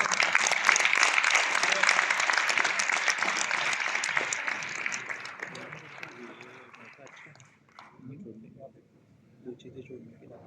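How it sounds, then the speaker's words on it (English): Audience applauding at the inauguration of a medical conference in an exhibition hall, dense clapping that fades out after several seconds, followed by quiet room sound and a voice. "Give a big round of applause."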